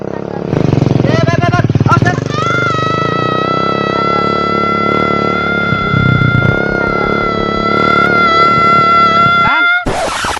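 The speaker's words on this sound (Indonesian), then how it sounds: "Nah, nih motor butut." An old, beat-up motorcycle runs close by with a loud, buzzing engine drone that settles into a steady whining tone, briefly rising and dropping in pitch, with some clatter near the start.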